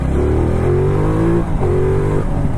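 A 2019 Ducati Multistrada 1260 motorcycle in touring mode accelerates hard in second gear toward 60, its engine revving up loud and close with a short dip at a gear change before climbing again.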